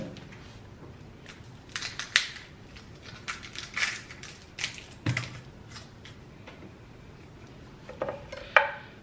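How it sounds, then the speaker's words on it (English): Onion skin is peeled away by hand in a kitchen, giving soft intermittent crackles, papery rustles and small crunches with gaps of near silence between them. "Just gonna get rid of the first layer of skin."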